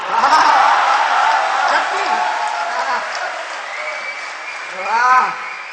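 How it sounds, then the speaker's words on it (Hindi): Audience at a Hindi poetry recital breaks into applause with some chuckling, the clapping strongest at the start while voices and laughter rise through it. "मन की चीज मिल जाती है तो ताली बज जाती है।"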